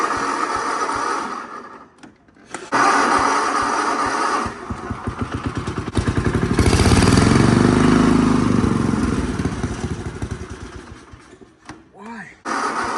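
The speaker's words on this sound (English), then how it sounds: "There's a little spot like around quarter throttle where it actually idles down below idle." A 1968 Massey-Ferguson MF10 tractor engine runs unevenly near quarter throttle, its small-engine drone rising and dipping below idle, loud and close, with someone talking over it at the start and end.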